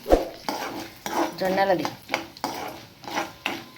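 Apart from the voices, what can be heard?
jowar murmura (sorghum puffs) being fried and stirred in a pan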